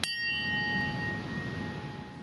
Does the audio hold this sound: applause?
no